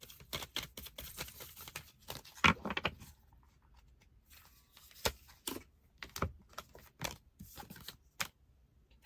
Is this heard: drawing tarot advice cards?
yes